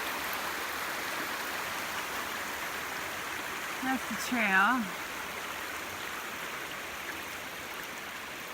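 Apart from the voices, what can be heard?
creek water flowing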